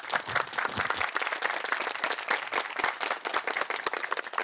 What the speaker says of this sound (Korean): 딴 데 가면 이 얘기하면 박수 나오던데.